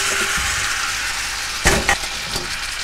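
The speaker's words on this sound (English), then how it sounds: "We're going to add our fruit, and you're going to saute your fruit for about 30 seconds" Apple and banana pieces sautéing in melted butter, a continuous sizzle broken by a couple of sharp clanks of a utensil against the pan near the end, with no talking.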